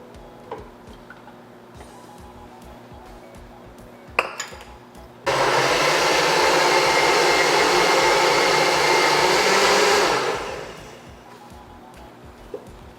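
An electric mixer beats bananas and eggs for banana bread, starting with a few clatters and then running loudly and steadily for about five seconds before winding down.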